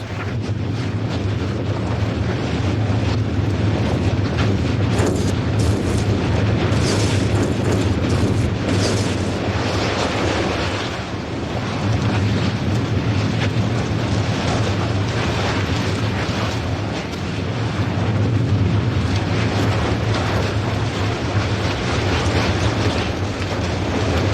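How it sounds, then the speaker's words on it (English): A Hawaiian volcanic eruption roars continuously as trapped gases burst out, a loud, dense rumbling wash with wind buffeting the microphone and a brief dip in intensity midway. "Trapped gases explode to freedom."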